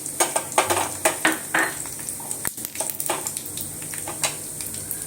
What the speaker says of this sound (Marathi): हे जिरे टाकून घ्यायचं आहे. आणि या ज्या बोर मिरच्या आपण मगाशी घेतल्या होत्या ना, त्या टाकायच्या आहेत.